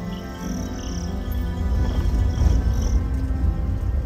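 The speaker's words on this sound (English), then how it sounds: "fell asleep to the sound of the crickets" Night insects and frogs call steadily from around a lodge near a lake in Uganda, a constant layered chirping and trilling with a soft low rumble underneath, and no voices.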